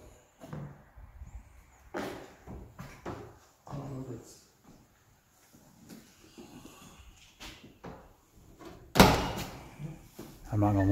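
A door in an old, decaying plantation house in Bostwick, Georgia creaks and bumps amid scattered footsteps and knocks, ending in a sharp, loud clatter near the close, with people talking quietly nearby.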